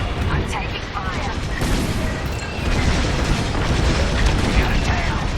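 Starfighter taking blaster fire in Star Wars Squadrons: a dense, continuous barrage of booms and crackling hits over engine roar, with a voice speaking through it.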